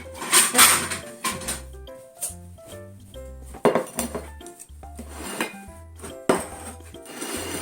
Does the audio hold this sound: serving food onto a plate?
yes